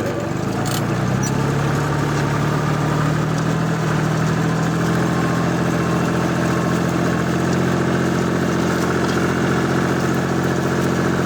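A tractor engine runs while ploughing a field after corn with a Bellota Kverneland-size plough, a loud continuous low drone that rises in pitch early on and then holds steady throughout.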